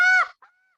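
Goose honking near a short reed goose call over a burnt field: one loud, drawn-out nasal honk, then a brief quieter second honk fading into silence.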